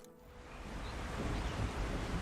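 Waterfall ambience in a game, a soft steady rushing wash of falling water, faint and continuous with no voices.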